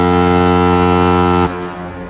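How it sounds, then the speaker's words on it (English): A loud, deep ship-style foghorn blast holds a rich, steady harmonic tone for about a second and a half, then cuts off abruptly, leaving only a brief quieter tail of room sound. "God, it's a good horn, isn't it?"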